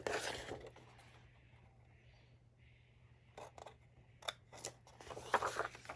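Scissors cut through a 12-inch sheet of patterned paper in close, quiet strokes. Bursts of cutting at the start are followed by a lull, then several crisper snips close to the end.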